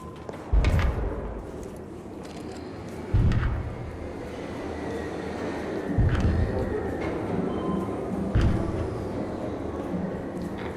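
A train in the video game Arc Raiders arrives at a platform, with heavy rumbling rail noise and several loud clanking thuds at regular intervals as it rolls in, no voices over it.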